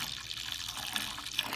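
Cold water runs steadily into a home-brew beer fermenter, a continuous close hiss of filling liquid with faint bubbling, no voices.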